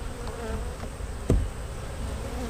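A honey bee colony buzzes steadily and densely during a hive inspection, with one brief knock partway through.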